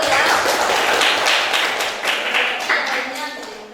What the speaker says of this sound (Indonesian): Boleh tepuk tangan dulu ya.